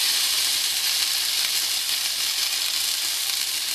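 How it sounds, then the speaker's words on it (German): Pork roast seasoned with salt and pepper searing in a roasting pan with onions, giving a steady, loud, close sizzle and crackle of hot fat that runs unbroken throughout with no talking. "Und von allen Seiten gut anbraten."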